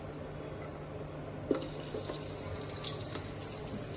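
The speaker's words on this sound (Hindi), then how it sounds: "अब इनको भी हमने फ्राई कर लेना है।" Sliced onion rings fry in a pan for Afghani borani baingan, giving a steady, soft sizzling hiss throughout, with one brief light clink.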